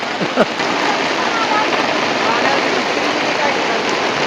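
Heavy monsoon rain pours on an open hillside with water running and streaming along the ground, a dense steady broadband wash that stays constant throughout; a brief voice-like sound appears near the start.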